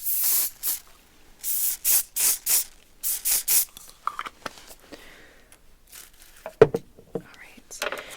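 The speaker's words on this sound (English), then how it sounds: "give them a little bit of a spray." Several short bursts of hairspray hiss in quick succession, close up, as it is sprayed onto hair, followed by soft rustling and handling noises.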